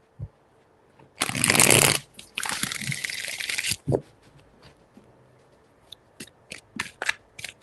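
Tarot cards are shuffled by hand in a loud, rough burst of riffling, then a longer shuffle. Sparse taps and flicks of the deck follow in a quiet room.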